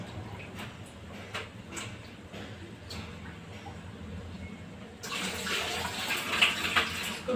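Tap water runs over half-hour-soaked rice in a home kitchen, a steady hiss that swells louder and brighter partway through as the stream hits the grains, with no talk over it.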